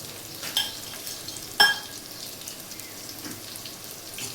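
Chopped boiled potatoes stirred in a frying pan with a pinch of turmeric, giving a soft steady sizzle broken by a couple of sharp spoon scrapes and clinks, close by with no talking.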